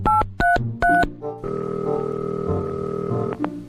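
A telephone is dialed, with three short electronic key tones followed by a steady, sustained tone, close and clear with no voices.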